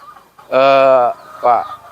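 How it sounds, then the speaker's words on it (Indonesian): KUB chickens on a farm give two loud, close clucking calls, a longer drawn-out one followed after a pause by a shorter one. "Pak Mon memelihara ayam ini sudah berapa bulan?"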